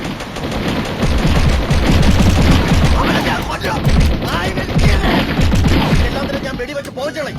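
Rapid gunfire bursts from the Mini Militia shooter game, loud and dense with repeated shots, mixed with voices talking over the action.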